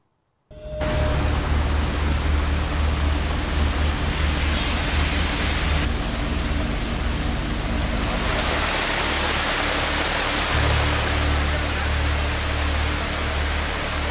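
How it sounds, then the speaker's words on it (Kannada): Swollen rivers and streams in Kodagu surge after days of heavy monsoon rain, a dense, steady roar of rushing water heard close and loud with no pauses. "ಜಿಲ್ಲೆಯ ಎಲ್ಲ ನದಿ ತೊರೆಗಳು ತುಂಬಿ ಹರಿತಾ ಇದೆ"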